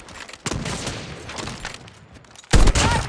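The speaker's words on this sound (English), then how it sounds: "Get down, sniper!" Gunfire in a multiplayer shooter video game, including sniper rifle shots, crackling bursts and blasts, one loud near burst near the end, no clear talk.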